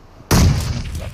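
A grenade blast in PUBG Mobile erupts suddenly a third of the way in, a loud broadband boom that decays slowly over the remaining second with no talk.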